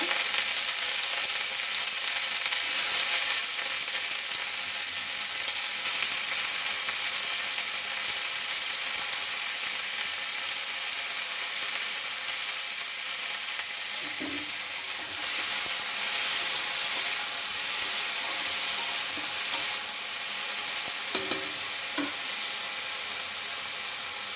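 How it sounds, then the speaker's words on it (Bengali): Potatoes frying in a pan for a vegetable masala pasta, a constant dense sizzle with a couple of faint knocks of a spoon partway through, near and without talk. "আলুটাও একসাথে ভেজে নেব।"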